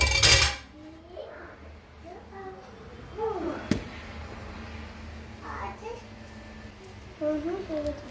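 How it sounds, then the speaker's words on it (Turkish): Cake pan handled on the stove while a one-egg cake made with water is flipped, opening with a loud metallic clatter, then lighter knocks and scrapes, with someone speaking in between. "Tavaya tekrar koyuyorum"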